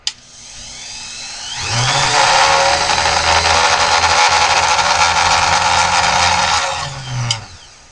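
A drill press spins up to its high speed of 8,500 RPM, a loud, close whine that ramps up, holds steady for several seconds, then winds down, with a sharp click at the start.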